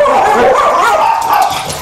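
Dogs bark and yip close by in a short, loud burst, with whimpering tones mixed into the barking and a voice briefly audible underneath.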